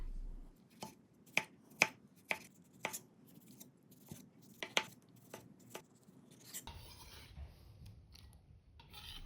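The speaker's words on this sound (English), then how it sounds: "slice the tomatoes into thin pieces." A knife slices tomatoes into thin pieces on a cutting board, a series of crisp, evenly spaced taps close up in a quiet kitchen, ending in a soft rustle.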